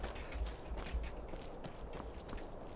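Hooves clip-clop in a steady walking rhythm in a video game, a few close thuds standing out over a hissy background.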